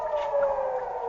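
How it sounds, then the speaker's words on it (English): An air-raid siren wails after a missile strike in northern Israel, a steady mournful tone held through the brief moment at moderate level. "And then come the sirens."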